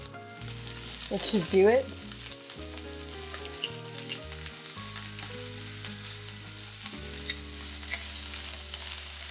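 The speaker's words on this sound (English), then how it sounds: "So we're going to want to soften up these onions, okay? Now we're getting a nice browning here." Onions softening and browning in a pan for jackfruit tinga tacos, a steady background sizzle beneath sustained music, with a short spoken remark early on.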